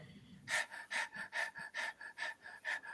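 Rapid breath-of-fire breathing, panting like a dog: about ten quick, evenly spaced breathy huffs in a steady rhythm, close and fairly soft, following a brief low murmur.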